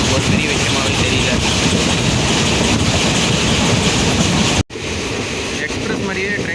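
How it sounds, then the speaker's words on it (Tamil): A fast passenger train rolls along with loud, constant rushing wheel and wind roar heard from inside, briefly cut before the steady rumble resumes. "ட்ரெயின் வந்து உண்மையிலேயே செம்ம ஃபாஸ்ட்டாக போயிட்டுருக்கு"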